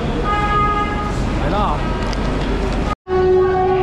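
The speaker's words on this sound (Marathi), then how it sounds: "आमची ट्रेन आलेली आहे." A train rumbles in at a station platform with a horn tooting, people talking over the noise, then a short cut to silence before it resumes.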